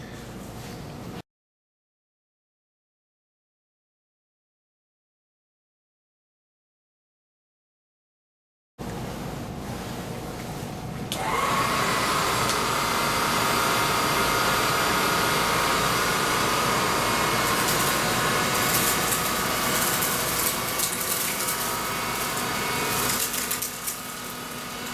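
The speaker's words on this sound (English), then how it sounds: "So let's test this machine and see how well it does on the sand." A Dyson DC35 Digital Slim or Hoover Linx cordless stick vacuum cleaner runs on sand, picking it up. After a short quiet stretch there is a steady motor hum, which rises to a loud, high, sustained whine that lasts to the end.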